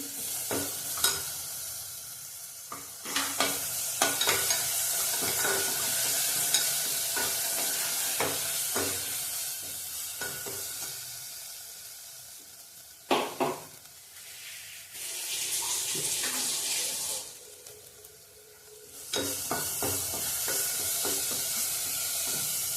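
Stuffed-brinjal masala sizzles and crackles in a hot pan while a spoon stirs and scrapes in irregular bursts, with brief quiet pauses between stirring.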